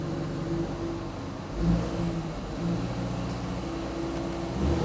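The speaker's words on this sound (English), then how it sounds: "So I'm gonna give a little bit of gas." A 2025 BMW X3 engine idles steadily indoors, then rises briefly in a couple of gentle revs before settling back to a low hum.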